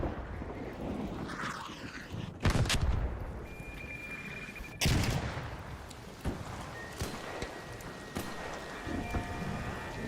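Gunfire from a sniper tower in a video game sounds as a few sharp, loud cracks spaced several seconds apart over a rumbling, rain-like background.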